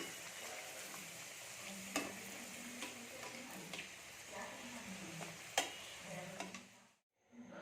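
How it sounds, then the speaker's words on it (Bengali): Luchi fry in hot oil with a faint, steady sizzle, broken by a few sharp clicks and taps, until it stops abruptly near the end. "তো এখানে তেল গরম হয়ে গেছে, এবার আমি লুচিটা ভাজতে শুরু করব"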